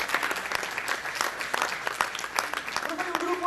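A church congregation claps in loud, sustained applause, a dense wash of overlapping hand claps with a few sharper individual claps poking through, and a voice enters faintly near the end.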